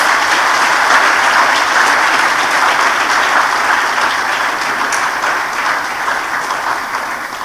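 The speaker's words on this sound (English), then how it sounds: "let's give our chairman a round of applause" An audience at an International Women's Day seminar applauds the chairman in steady, dense clapping that holds for several seconds and eases slightly toward the end, with no talk over it.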